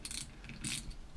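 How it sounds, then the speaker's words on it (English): Quick ratchet clicks tightening ring gear bolts in a star pattern on a Ford 9 inch differential, two short close bursts of pawl ratcheting with no voices. "Just keep tightening these down in a star pattern till the ring gear and the differential are connected"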